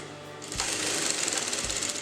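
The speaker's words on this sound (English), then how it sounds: "Now I'm sewing the sides, that is I'm just joining both the front and the back piece" A sewing machine stitches the side seams of a kameez dress, joining front and back pieces; a steady close whirring run starts after a brief pause and continues alone.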